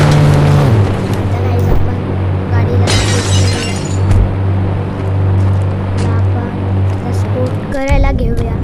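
A car slamming into another car in a driving video game, a sudden metallic crash and shattering burst over continuous engine drone, with a voice talking throughout.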